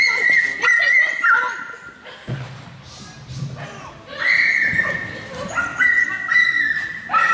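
A large dog barks at a Border Collie agility championship final, sharp repeated barks and yips near and loud, mixed with crowd noise and voices talking.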